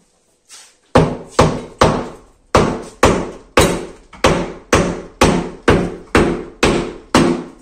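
A hammer strikes homemade plaster in a house renovation, about a dozen hard, loud blows landing in a steady rhythm at close range, each ringing briefly before the next.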